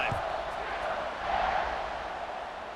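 Steady stadium crowd roar in a College Football 26 video game during a kickoff, a dense continuous wash of cheering that swells slightly midway, with no other sounds standing out.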